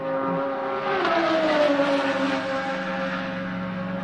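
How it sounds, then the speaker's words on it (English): A race car roars past on the track during a three-hour endurance race, its loud engine note rising and sweeping by with a Doppler-like pitch shift under the steady hum of other cars. "I can hear Murph roaring past our position here."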